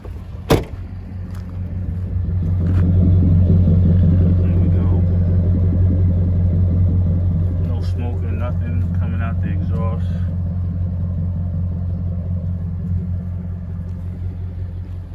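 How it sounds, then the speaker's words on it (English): A high-mileage Range Rover with 164,000 miles idles with a steady low rumble after a sharp click, and a voice talks briefly over the engine. "Even the motor is pretty quiet."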